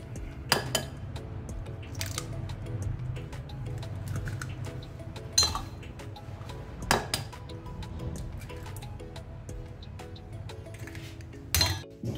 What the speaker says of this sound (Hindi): और उसके लिए सबसे पहले हम तोड़ेंगे अंडे